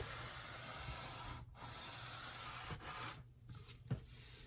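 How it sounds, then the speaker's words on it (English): Quiet, steady rubbing with a soft abrasive hiss as a super fine sanding sponge works the edge of a guitar fretboard, broken by a few short pauses as the strokes change. "This is a sanding sponge, and I like to put it right here"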